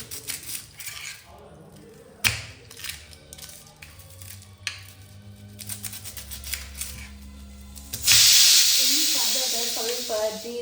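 Cumin and mustard seeds hit hot oil, bringing crackling pops and then a sudden loud hiss that fades as the seeds keep spluttering and popping, with a voice talking over parts of it.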